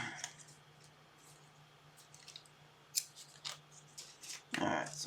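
Scissors cut material in quiet, irregular snips, some in quick runs of two or three and a couple louder, crisper cuts near the end.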